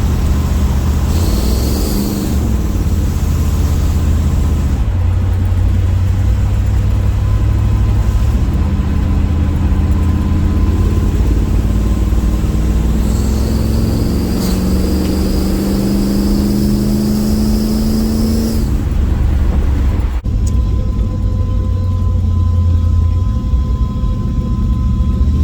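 Steady engine drone from an El Camino out on a test drive, loud and continuous, with a rising-falling tone as the car accelerates and settles, plus road and wind rumble throughout.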